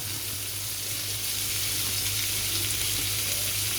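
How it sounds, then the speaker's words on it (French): Garlic frying in a pan for a chicken and rice dish, giving a steady, close broadband sizzle that holds at an even level from start to finish with no voices. "On va laisser cuire, parce que l'ail ça cuit vite."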